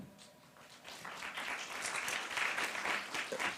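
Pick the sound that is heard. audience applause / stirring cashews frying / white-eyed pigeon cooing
audience applause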